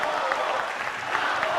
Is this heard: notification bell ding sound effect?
no